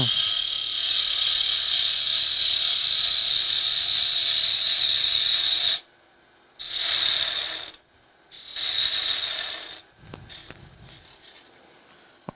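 A woodturning tool cuts away wood on a lathe while turning a lidded box, a loud continuous high whirring rasp that stops, then resumes in two shorter bursts before fading to quieter handling sounds.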